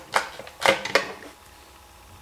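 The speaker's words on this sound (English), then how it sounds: "We cut a piece of wire." A piece of jewellery wire snipped with cutters while making a pendant: three or four short, crisp clicks close up, then quiet handling noise.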